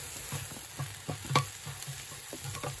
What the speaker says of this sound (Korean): 철판 볶음밥이 되겠습니다.